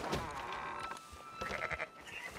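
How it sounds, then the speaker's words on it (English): Sheep bleat in Red Dead Redemption 2, several overlapping wavering calls at close range over a steady outdoor background. "Fine sheep."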